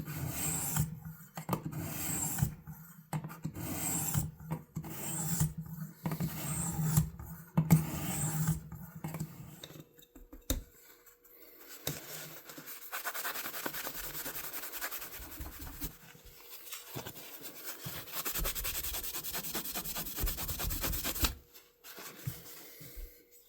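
Sharpening an old fisherman knife blade, close rhythmic rasping strokes in short bursts at first, then a longer continuous grinding stretch with brief pauses.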